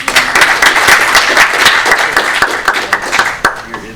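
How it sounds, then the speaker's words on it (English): A tech meetup audience bursts into applause for a Django speaker, dense, loud clapping from a room full of people that holds steady and then thins toward the end. "let's give him a round of applause"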